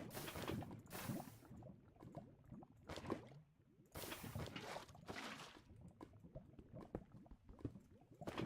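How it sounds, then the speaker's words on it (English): Lava bubbling and popping in Minecraft, a steady run of soft, overlapping gurgles and bursts that swell and fade in irregular waves, heard alone without talk. "I hear lava."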